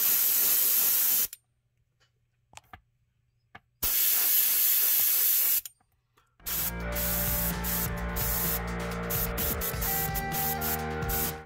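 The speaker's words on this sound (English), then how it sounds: "We're going to base coat it here." An airbrush sprays base coat paint onto a fishing lure being painted in a yellow perch pattern, producing two loud, steady bursts of hiss separated by quiet pauses, followed by a different, denser noise.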